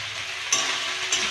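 Taro stolons sizzling in a pan with lightly fried shrimp, a steady loud frying hiss with two sharper bursts as the food is added and stirred, no voices.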